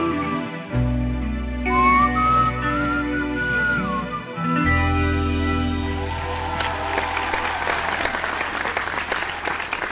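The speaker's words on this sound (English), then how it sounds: "Nice whistling, Posa." A person whistles a short melodic phrase over music, and then loud applause from a large crowd swells and continues.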